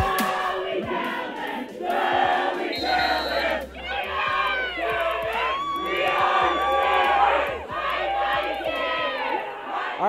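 Cheerleaders shout a rhythmic chant in unison at halftime of a high-school seniors' powderpuff football game, loud and close with bursts of crowd cheering between phrases.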